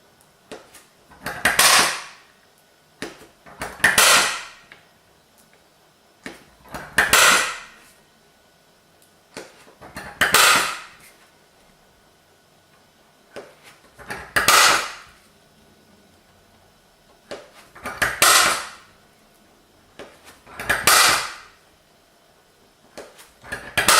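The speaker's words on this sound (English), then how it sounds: "I want to punch all of those because I'm either going to be drilling or using them for centre immediately" Steel centre punch struck with a hammer into metal marking positions for drilling, a sharp metallic tap roughly every two to three seconds, eight evenly spaced strikes, close and loud against a quiet workshop.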